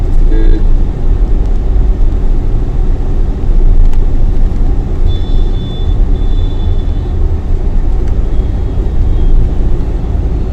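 Steady interior road rumble of a Tata Safari SUV cruising along the Saharanpur expressway toward Dehradun, continuous and loud with broadband tire and wind noise, no talking.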